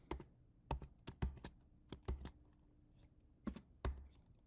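Quiet, close keystrokes on a computer keyboard come in irregular clusters of clicks with short pauses between them, and no one talks.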